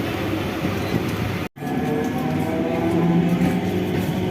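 Steady rumbling and rolling of a suburban train heard from inside the carriage on the way into Dum Dum, a continuous loud drone with a brief dropout near the start.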